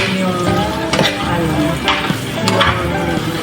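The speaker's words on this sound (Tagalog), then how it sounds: "napapried na din yung yung onion" Onion and lamb meat frying in a pan for lamb pastil, a loud, close, continuous sizzle broken by several sharp scraping stirs of a utensil against the pan.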